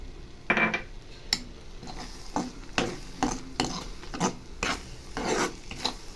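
Date halwa being stirred with ghee in a pan, a run of rhythmic scraping, rasping strokes against the metal surface repeating about every half second, close and clear with no voices.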